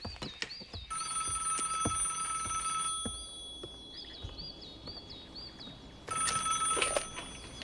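An old-style telephone bell rings in repeated bursts indoors, loud and close, with a quieter pause between rings before ringing again; no talking.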